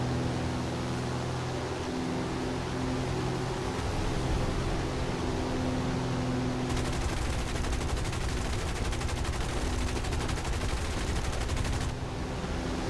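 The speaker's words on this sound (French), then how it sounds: "on me tire dessus" Gunfire aimed at an aircraft in the War Thunder video game with US air forces, dense continuous rattling bursts over a constant engine drone, loud and unbroken.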